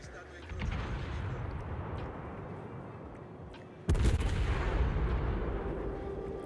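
Heavy naval gunfire in World of Warships, with a Venezia Tier 10 Italian cruiser in battle: a steady rumbling roar of distant battle gives way to one loud, sharp salvo near the four-second mark, followed by a louder sustained rumble.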